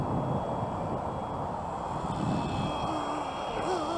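A Flywing 450 RC helicopter hovering under 70% throttle outdoors, giving a steady, continuous motor and rotor drone that stays near and fairly loud throughout, with a faint whine rising late in the clip.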